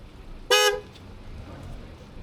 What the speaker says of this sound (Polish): Czego pan tak trąbi?